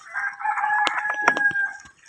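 A rooster crows on a farm where pigs are kept, one drawn-out, close call lasting a couple of seconds with a few faint clucks and knocks underneath.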